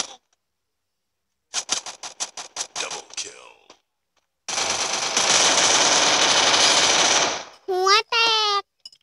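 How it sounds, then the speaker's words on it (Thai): A Thompson submachine gun fires in a video game: a string of short rapid bursts, then one long sustained burst, then a couple of quick final bursts, all loud and close. "ปืนทอมสัน ทอมสั้นทอม ทอมสั้นหรือทอมสันนั่นแหละไม่รู้เลย"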